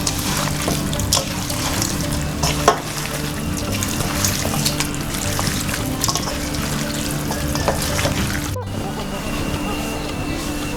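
Cleaned raw chicken pieces are mixed by hand in a bowl, giving continuous wet squelching and stirring noises with a few sharp clicks, fairly close and busy throughout, with a brief drop near the end.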